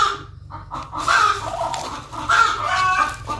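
A brooding hen clucks repeatedly and fairly loudly close by as eggs are gathered from beneath her and she is set back onto them, a series of throaty calls with no talking.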